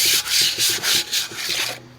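Car wheels being hand-sanded with 220 grit sandpaper to take off sharp edges, a close, steady rasping rub in rhythmic back-and-forth strokes, about seven passes before it fades.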